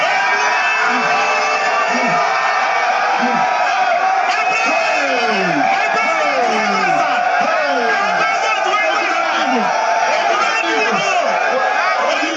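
An excited crowd at Alaba International Market in Lagos shouts, whoops and cheers without letup, many voices overlapping in a loud, dense roar with rising and falling calls throughout.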